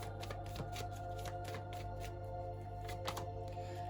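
Tarot cards shuffled and drawn by hand, a series of crisp riffling flicks and soft slaps at close range over a low steady hum, with no talking.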